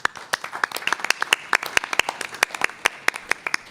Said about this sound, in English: I think both of those deserve some applause.